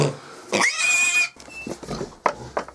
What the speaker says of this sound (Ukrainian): і от модеста, такі гарні поросятка